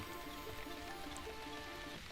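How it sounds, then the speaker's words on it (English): Light rain falls in a video game, a soft steady patter layered over a constant low background hum, with no voices. "we got light rain"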